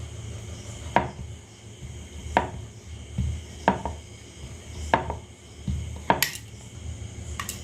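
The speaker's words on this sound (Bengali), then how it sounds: "এবার আমি বেলে নেব।" Dough balls for egg rolls are rolled out with a rolling pin, giving rhythmic wooden knocks roughly every second over a low rolling rumble, close and without speech.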